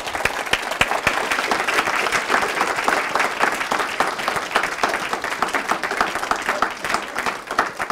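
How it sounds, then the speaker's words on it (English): An audience at a living autopsy demonstration gives a hearty round of applause for the model. The clapping is dense and continuous, loud and close, and holds steady throughout. "I would like you all to give a round of applause to the real star of the show,"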